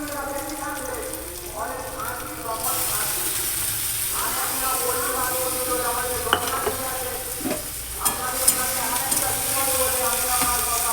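Onions sizzle in hot oil with a little sugar, a steady close crackle under repeated stirring and scraping clicks, with a person speaking over the frying.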